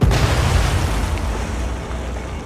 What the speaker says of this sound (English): the Tecumseh connects with the torpedo